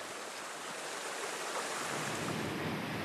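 A small mountain stream flows steadily on a climbing trail toward Kilimanjaro in Tanzania, its rushing wash filling the whole stretch with a dense, even roar, close by and unbroken.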